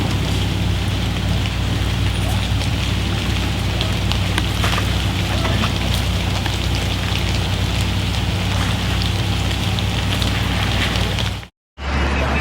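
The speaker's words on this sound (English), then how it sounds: "What do you think about all this rain, Rachel?" Steady rain falls in the Vermont woods, a dense continuous patter of drops on leaves and surfaces that stays loud and even for about eleven seconds before cutting out abruptly near the end.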